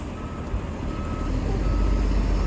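A truck backs up at a construction site, its steady reversing beeps sounding clearly over a loud, rumbling diesel engine that grows slightly heavier toward the end.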